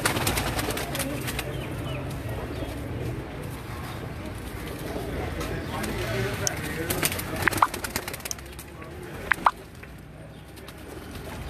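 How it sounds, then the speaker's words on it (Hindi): Paired racing pigeons coo softly against a background of rooftop ambience in Sahiwal, with a few sharp clicks and flutters and faint voices nearby. "जोड़ों वाले कबूतर हैं जी"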